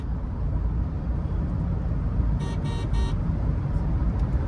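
A Toyota Fortuner cruising on the road in sixth gear, a steady low road and engine rumble with a brief series of horn toots partway through.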